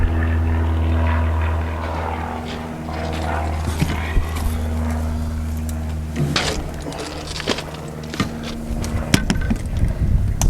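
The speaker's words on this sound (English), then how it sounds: "Little Piper Cub." Small Piper Cub propeller plane flying low overhead at a disused rail depot, a steady droning engine hum that swells and fades, with wind and light handling noise over it.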